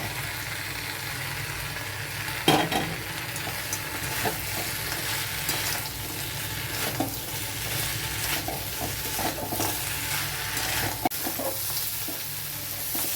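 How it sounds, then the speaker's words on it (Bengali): Rohu fish head sautéing with rice in a pan for muri ghonto, a continuous close sizzle with scraping stirs and occasional clinks of the spatula against the metal. "এবারে মাথা দিয়েও কষাবো, একসাথে সব কষাবো।"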